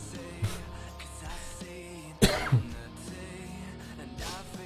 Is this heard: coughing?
yes